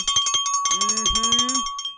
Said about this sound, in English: Let's get the bell out.